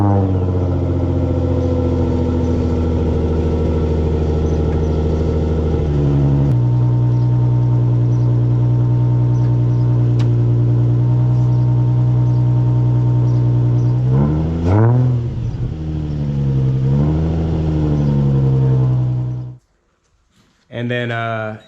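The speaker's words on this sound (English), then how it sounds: "I did a cold start video prior to this with the old exhaust setup" Nissan G35 engine idling after a cold start with its old exhaust, a steady loud low drone with a pitch change midway, a brief revving swell, then cutting out near the end.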